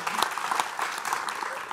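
Audience applause at a family quiz competition show, a steady wash of clapping with a few louder claps near the start, moderately loud and continuous.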